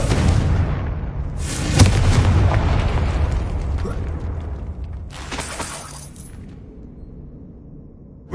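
A Confringo fire spell explodes in the video game Hogwarts Legacy, with three loud, booming blasts close by. Each blast bursts suddenly, then rumbles and fades, and the last one trails off into quiet.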